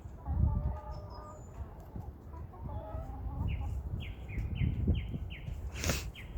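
Hens clucking and calling in a coop at night as they settle onto perches, with a run of sharp, repeated clucks rising toward the end over soft rustling.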